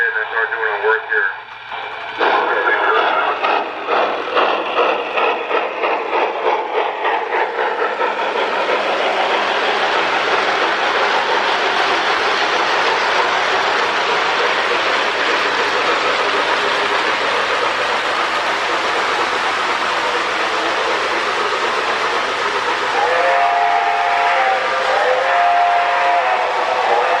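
A Lionel 675 model steam locomotive with a rebuilt smoke unit runs on track, giving a loud steady whirring rumble with rhythmic chuffing at first, continuous and close.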